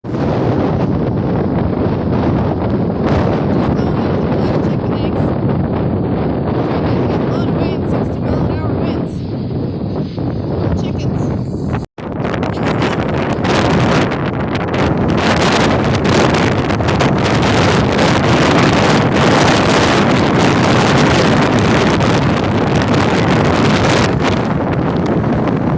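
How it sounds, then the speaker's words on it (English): Strong storm wind gusting hard around a goat barn, a loud continuous buffeting roar battering the microphone for the whole stretch with only a brief dropout midway, no clear talk audible over it. "So the wind is really, really bad."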